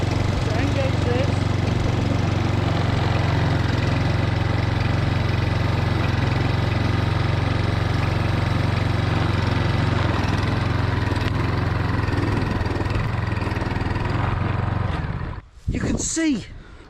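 Petrol lawn scarifier running steadily over a mossy lawn in February, a loud continuous engine drone with raking roar that cuts out near the end, followed by a brief rustle.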